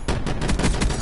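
Rapid, loud video game gunfire from shotguns bursts in quick succession, the blasts running together into a dense, continuous barrage for about a second.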